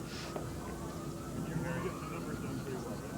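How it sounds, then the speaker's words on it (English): Emergency sirens wail faintly in the distance at Cincinnati's Riverfront Stadium before its 2002 demolition, their rising and falling tones half-buried under a steady low rumble. "We hear more sirens."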